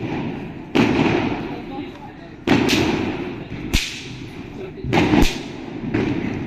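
Several Diwali firecrackers burst one after another with sharp cracks and booms, irregularly spaced, amid background crowd noise and voices.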